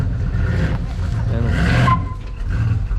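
A 1994 Chevy Suburban's brakes lock up, giving a short loud rough skid-like burst over the engine's low rumble, then the vehicle noise settles.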